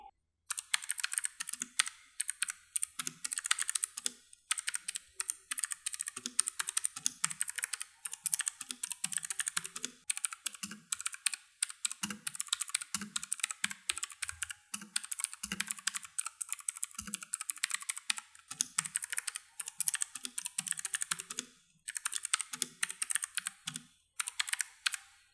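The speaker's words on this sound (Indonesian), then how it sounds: "Kalian bisa dengar sendiri bagaimana suara yang dihasilkan keyboard ini." Steady, brisk typing on a clicky optical-mechanical keyboard, an Armaggeddon MKO 13R, with sharp keystroke clicks in continuous runs and a few short pauses, close and alone.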